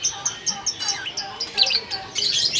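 A caged songbird at Pasar Burung Pramuka bird market in Indonesia gives repeated bright, high chirps in quick irregular bursts, close and fairly loud, with market noise faint underneath.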